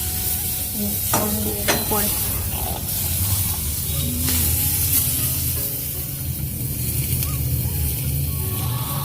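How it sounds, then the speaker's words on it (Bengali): Food frying in a pan in a home kitchen, a steady close hiss of sizzling oil with occasional stirring clatters, one brief word spoken at the start. "এই যে বসে দিয়েছে, ভাজাভুজিটা করছে"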